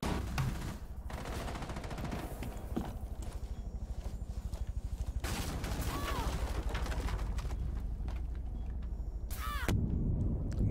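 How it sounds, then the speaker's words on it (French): Dense, rapid gunfire from Rainbow Six Siege rattles almost without pause, with bursts of automatic fire and footsteps, sustained and loud throughout, easing off only near the end. "Mais qui est-ce qui me tire dessus là?"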